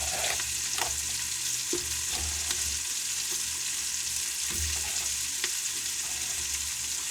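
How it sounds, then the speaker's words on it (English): Onions fry in a pot for a corn chowder with bacon, a steady close hiss and sizzle broken by a few soft stirring scrapes and knocks, with no talk. "what I'm going to do is add the onions"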